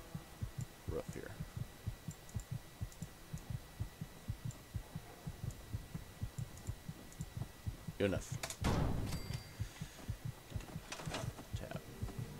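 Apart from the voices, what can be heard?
heartbeat sound in video game Fallout 4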